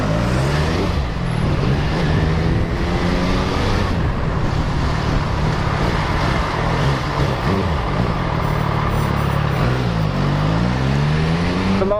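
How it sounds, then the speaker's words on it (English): Cars and other road traffic rolling through a road crossing, a steady loud engine and tyre rumble that swells and passes continuously, with no talk. "The last of the crossing cars are coming through"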